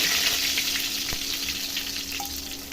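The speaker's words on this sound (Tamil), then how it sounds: "கடுகு போட்டு தாளிச்சுங்க மக்களே கடுகு வச்சுட்டு கருவேப்பிலை போடுங்க" Mustard seeds and curry leaves crackle and sizzle in hot oil in a steady, close, fairly loud hiss with scattered pops, no voices.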